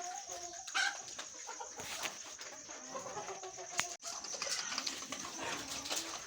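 Hens cluck and cackle steadily in a poultry shed, a close, fairly faint chorus of overlapping calls with a sharper squawk near the middle and no one speaking.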